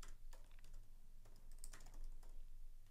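Keys clacking on a computer keyboard while wedding invitation text is typed, a quick run of close, light taps with short pauses, no talking.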